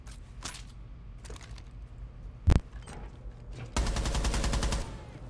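Gunfire in Rainbow Six Siege comes as a few scattered shots, a single loud crack near the middle, then a sustained burst of rapid automatic fire toward the end.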